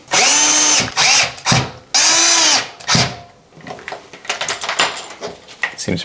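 A power drill runs in a few short loud bursts into a front door, then stops, followed by quieter handling clatter and movement.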